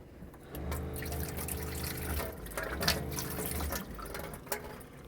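Water runs from a tap in a house plumbing system with air trapped in the hot water line, a faint uneven gushing and sputtering flow with small bursts and clanks, steady throughout.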